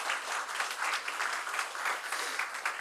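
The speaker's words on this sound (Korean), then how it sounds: "우리 김석구 장로님께도 큰 박수 한번 드리면 어떨까요?" A church congregation applauds retiring church elders, sustained rippling clapping from a full room that stays even throughout.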